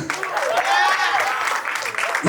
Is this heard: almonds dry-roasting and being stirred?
no